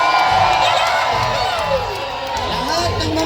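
A large crowd at the Obando festival shouts and cheers in loud waves with whoops and children's yells, steady and close throughout, while an announcer's voice carries over the noise.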